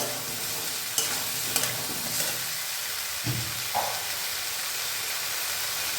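Aloo dum in a white gravy, made without onion, is stirred in a pan with a soft steady sizzle, with a few clinks and scrapes of the spoon against the pan scattered through it.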